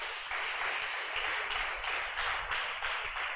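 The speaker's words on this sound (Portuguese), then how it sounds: "Dê um aplauso a Jesus." A church congregation applauds during a sermon, brief dense clapping that rises and falls in waves, fairly loud and close, with no voice over it.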